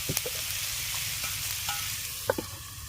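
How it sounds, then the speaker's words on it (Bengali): Potatoes and onions seasoned with chili powder and salt fry in a covered pan, giving a faint, steady sizzle broken by a few soft clicks and knocks. "এবার ঢাকা দিয়ে এগুলোকে ভাজা হতে দেবো যাতে আলু আর পেঁয়াজটা নরম হয়ে যায়"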